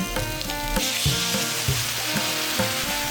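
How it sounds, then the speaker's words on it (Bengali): Water is poured into a hot pan of frying spices, taro and prawns, giving a loud continuous sizzle and bubbling hiss with a few scrapes and knocks of utensils against the pan. "এবারে দিয়ে দেবো পরিমাণ মতো জল"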